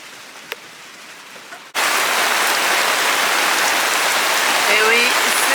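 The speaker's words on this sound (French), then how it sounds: "Et comme ça il pleut" Heavy rain on a sailboat riding at anchor in the rainy season, starting abruptly after a quiet moment and then a loud, dense, steady hiss of rain drumming on the deck and water nearby.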